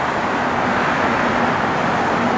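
Passing cars on a nearby road make a continuous broadband whoosh with no distinct events, and no one speaks.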